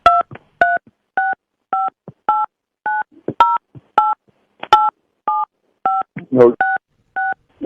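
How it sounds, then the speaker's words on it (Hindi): Mobile phone keypad tones ring out as a 16-digit debit card number is entered, a steady run of short, evenly spaced beeps, loud and close, with a brief scrap of voice near the end. "आप अपने मोबाइल फोन से अपना डेबिट कार्ड का 16 अंक का जो नंबर है वो डाल देना।"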